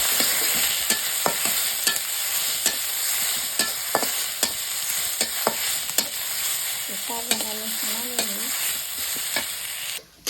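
Onions and greens fry in oil in a kadai, a steady loud sizzle broken by regular scraping stirs of the spoon against the pan.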